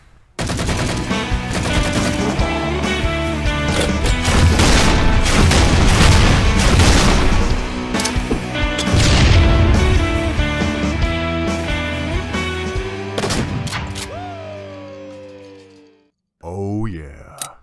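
Video game battle gunfire: dense bursts of automatic fire and heavy booms go on continuously and loudly for about fifteen seconds. Voices shout over the firing, then a sudden stop and a short burst of noise at the end.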